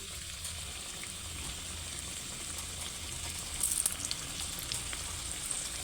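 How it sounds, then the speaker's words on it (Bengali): Flour batter fritters shallow frying in oil give a soft, even, continuous sizzle that stays fairly quiet, with a brief brighter crackle burst midway and no talking. "ভালো করে ভেজে নেব এমনি করে ভেজে নেবো এটাকে"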